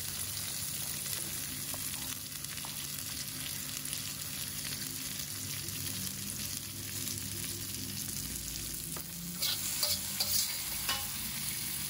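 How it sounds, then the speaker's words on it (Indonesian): Shallots and garlic sauté in a pan for a squid-ink black fried rice, giving a steady, close sizzle with occasional stirring scrapes and no talk throughout. "Ini kita bisa tumis bawang merah. Bawang putih."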